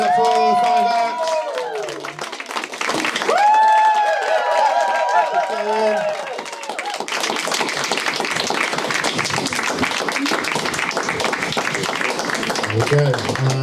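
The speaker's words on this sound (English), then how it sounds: "Let's first of all put our hands together for all the actors that made their way back out on the stage" Audience at an Edinburgh Fringe comedy heat applauding the five returning acts, a long, dense run of clapping and cheering that fills the room and continues under a host's voice speaking over it.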